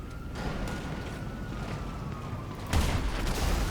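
Explosions and gunfire in the video game GTA, set in a police-station shootout: a steady rumbling din of blasts and shots with a brief tone, then a sharper, louder boom near the end.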